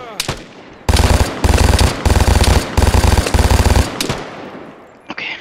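Automatic gunfire in the online shooter Vigor rattles out in several rapid, loud bursts separated by short pauses, each volley a dense string of close sharp shots.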